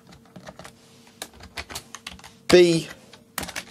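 Someone types on a computer keyboard while coding Ruby on a Raspberry Pi: scattered close key clicks in irregular bursts, with a short spoken word partway through.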